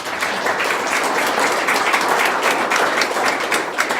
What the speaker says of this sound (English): So first, let's give them a round of applause.